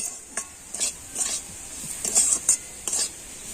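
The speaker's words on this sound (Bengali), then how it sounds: "খোয়া ক্ষীরটা তো এখন আমি সব কিছু কিন্তু খুব ভালো করে মিশিয়ে নেব" Grated khoya kheer being stirred into semolina in a pan for Holi gujiya filling, with soft scraping strokes of a spoon against the pan coming in short irregular bursts, close and fairly quiet, no talking.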